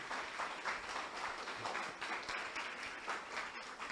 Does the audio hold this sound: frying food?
no